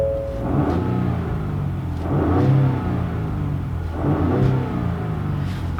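Cabin view of a 2020 Ford Raptor as its engine revs in three repeated swells, a deep mid-pitched rumble rising and falling about every two seconds, loud and close with no talking.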